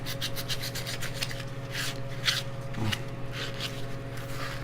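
Hand sanding of soft pine wood with 220 grit sandpaper, a steady close rasping rub with repeated strokes and no speech.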